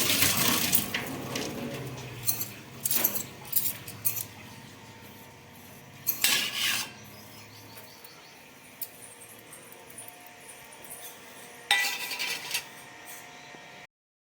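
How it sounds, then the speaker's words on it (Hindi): Knife chopping fresh coriander on a board in a home kitchen, a few short, sharp bursts of cuts separated by quiet pauses, close and fairly faint. "तो चलिए पहले हम धनिया काट लेते हैं।"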